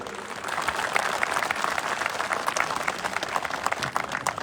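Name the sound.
audience applause at police gathering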